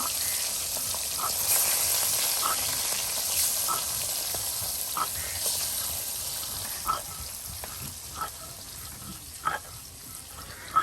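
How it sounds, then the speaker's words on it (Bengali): Pieces of kaku fish fry in a pan in a rural village kitchen, making a steady hissing sizzle throughout, with scattered soft clicks and a few sharper knocks near the end. "এই যে কাকু মাছের টুকরোগুলো এখন বেজে নেওয়া হচ্ছে"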